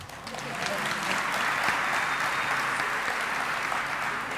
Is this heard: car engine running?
no